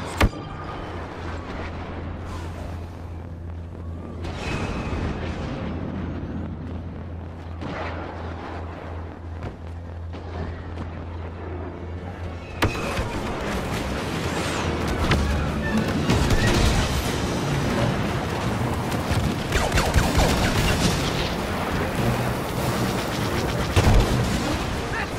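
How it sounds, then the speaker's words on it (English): Airstrike explosions in the video game Star Wars Battlefront, a dense, loud barrage of booming blasts and rumbling gunfire that swells into a continuous roar, with battle noise throughout. "Airstrike incoming."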